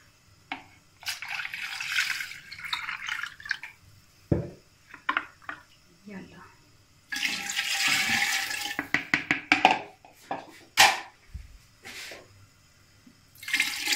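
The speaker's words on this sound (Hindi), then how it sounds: "तो अब हम इसका क्या करेंगे, इसमें पानी भी शामिल कर लेंगे।" Water from a jug splashes into a yogurt mixture for kadhi pakora in gushing bursts, interspersed with clinks of a spoon and utensils against the pot, with occasional talking.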